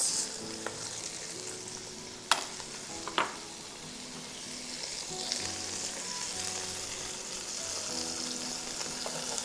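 Spiced hot sauce with black pepper and salt frying in a pan, a steady close sizzle with a few sharp clicks of utensils, building toward kebabs.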